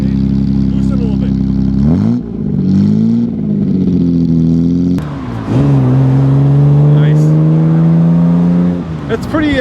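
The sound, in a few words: 1955 Aston Martin DB2/4 engine while driving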